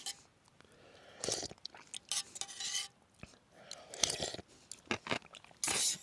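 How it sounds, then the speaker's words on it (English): Crunchy croutons are chewed up close at a wild camp in the Lake District, with sharp irregular crunches and bites mixed with light scraping and clinking of cutlery against a camp pot. "Crunchy croutons."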